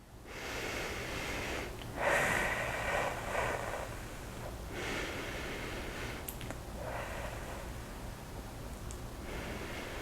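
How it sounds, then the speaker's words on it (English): Slow, deep breathing during a leg stretching exercise for managing spasticity, a few long airy inhales and exhales close to the microphone with soft rustling between them and no speech. "Take big breath."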